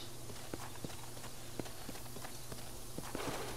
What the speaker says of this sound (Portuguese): Para esporear o cavalo e aumentar a velocidade a partir X. Se você segurar o X, o cavalo manterá a velocidade.